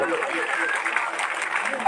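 Crowd applause at an outdoor wrestling dangal in Alanpur, a steady dense wash of clapping lasting a couple of seconds with crowd noise mixed in.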